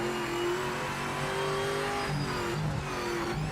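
Simulated race car in Project Motor Racing 2.0 racing game, engine droning steadily with a high whistling whine rising and falling through gear shifts, loud and continuous with no talk.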